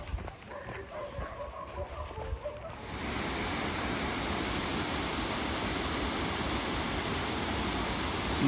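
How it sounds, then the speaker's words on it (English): River water rushes steadily through a gorge on a walking route between Ponte de Lima and Rubiaes, a loud continuous broadband roar taking over after a quieter opening with faint distant dog barks. "Some rushing water."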